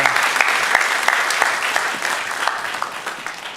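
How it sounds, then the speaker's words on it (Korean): Loud, dense applause from a church congregation during a Sunday morning worship service, a steady wash of many hands clapping close by for several seconds. "우리 영광의 박수를 우리 하나님께 올려드리겠습니다."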